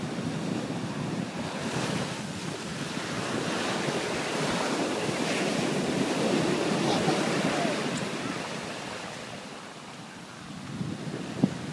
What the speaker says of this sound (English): now he's going to touch the ocean for the first time in Ocean City, Maryland